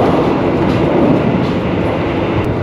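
The Argo Bromo Anggrek passenger train runs through Grobogan in Central Java. A loud, steady rail rumble and roar fill the whole stretch without a break.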